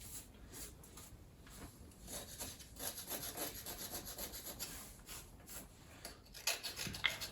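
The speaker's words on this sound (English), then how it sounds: "I have wire brushed it" Wire brush scrubbing surface rust off a worn spot on a Kawasaki Versys 650 frame where the tank rubs, a steady close scratchy rasping that runs throughout with short bursts of strokes and a few sharper scrapes near the end.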